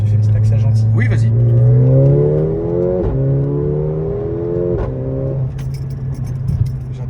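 A four-wheel-drive Mercedes accelerating from inside the cabin, the engine note climbing through several gears in rising sweeps with brief dips at each shift, loud and close, with someone talking over it.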